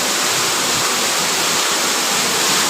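A waterfall at Valli Sunai, reached on a trek, pours in a loud, close, unbroken roar of rushing water with no voices.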